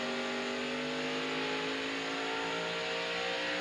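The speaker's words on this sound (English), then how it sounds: "You hear how smooth he is with that throttle as the car comes back up to speed?" A NASCAR Busch Series race car at the 2000 Hardee's 250 comes back up to speed off a corner, its engine a smooth, steady, loud roar building evenly throughout.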